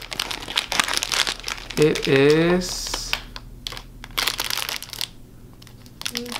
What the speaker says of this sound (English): I guess it comes in this little foil thing, so we gotta open this up real quick